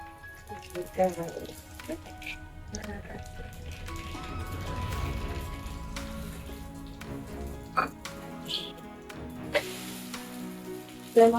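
Cumin and mustard seeds crackle and pop in hot oil for an okra and tomato curry, a fairly quiet, scattered sizzle with a few sharper pops near the end.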